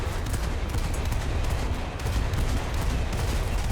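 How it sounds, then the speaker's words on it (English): Rapid gunfire from a 2-pounder gun aimed at a gunboat in War Thunder, a loud, dense, continuous burst of overlapping shots filling the whole stretch with no pauses. "we've got a 2-pounder gun there firing at us as well"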